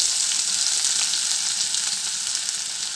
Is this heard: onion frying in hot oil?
yes